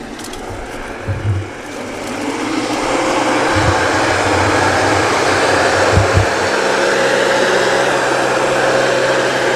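A Hattat A110 tractor pulls a four-bottom plow through a rapeseed field, its engine a loud, steady drone that builds after a couple of seconds, with a few low thumps early on.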